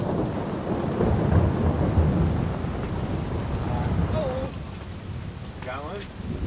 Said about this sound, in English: Thunderstorms had never felt closer.